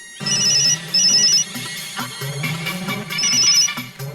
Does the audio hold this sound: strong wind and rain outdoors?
no